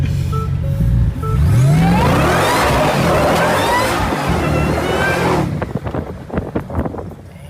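A Ford Raptor R pickup truck launches and accelerates hard, its engine note climbing loud and close before easing off into lighter rumble and clatter.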